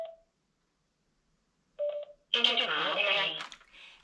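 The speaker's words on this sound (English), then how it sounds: "press and hold the volume down button until you hear intercom pairing." Sena Adventure Seeker motorcycle helmet intercom giving a short electronic pairing prompt: a brief tone, a second beep, then a clear synthesized voice announcement, close and alone without other talk.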